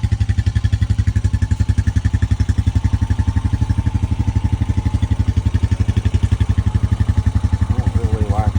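A 2025 Honda Rancher 420 ATV engine idles while warming up, a loud, close, steady rapid thumping pulse that holds an even rhythm throughout, with a faint chirp near the end.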